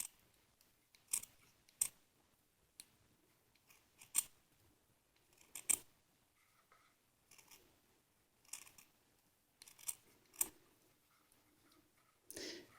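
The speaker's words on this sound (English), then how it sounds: "so carefully cut that all around" Scissors snipping fabric around a bead embroidery ring, a dozen or so crisp, close cuts spaced unevenly apart. The blades click sharply, and faint rustling between strokes sits over an otherwise quiet room.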